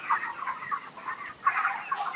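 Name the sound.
chickens clucking on a poultry farm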